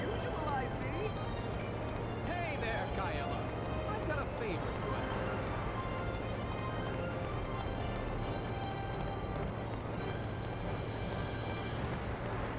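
Horse hooves clip-clop steadily in the game Sakura Wars, a quick, continuous trot heard at moderate distance beneath background music, with characters talking over it.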